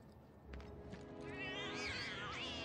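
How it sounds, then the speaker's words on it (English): Several cats meow in the video game Final Fantasy VII Remake, rising and falling mews that overlap near the end over a soft ambient game backdrop, fairly quiet. "Lots of cute kitty cats."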